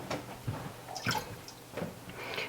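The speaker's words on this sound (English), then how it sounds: "So I'm going to pour this into my pot" Dissolved citric acid liquid being poured into a cooking pot for homemade mozzarella, giving soft irregular splashes and drips over a few seconds, close and quiet.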